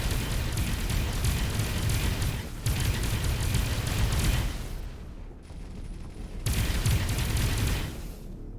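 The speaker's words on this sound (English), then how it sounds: "pulsed weapons, which make aiming a bit tricky because the beams are instantaneously hitting" Rapid pulsed weapon fire in the space combat game Avorion, a dense crackling barrage of blasts in two loud bursts separated by a brief lull, with no talking.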